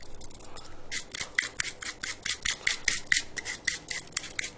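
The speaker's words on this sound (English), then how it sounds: "I'm going to peel my apple with a speed peeler" An apple being peeled with a speed peeler in a home kitchen, giving a rapid series of close, crisp scraping strokes that repeat steadily throughout.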